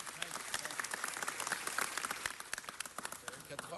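Applause at a city council meeting, a steady patter of many hands clapping at a moderate distance for several seconds, a little faint and uneven, with no talking over it.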